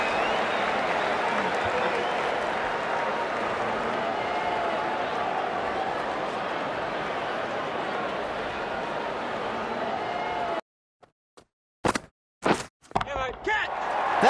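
A crowd in the Cricket 19 video game gives sustained, loud applause and cheering after a boundary four, then cuts off abruptly into brief scattered sounds.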